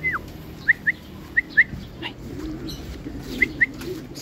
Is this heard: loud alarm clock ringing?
no